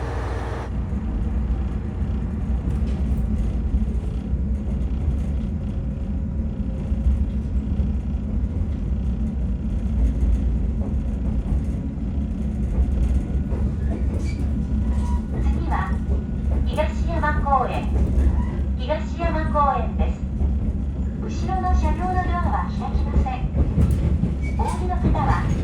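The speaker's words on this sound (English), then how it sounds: "here's the brightly yellow themed train that will be taking us down to Niimi" A train in snowy rural Japan, bound for Niimi, rumbles steadily along the rails, a continuous low roar with faint rattling, while a person talks briefly partway through.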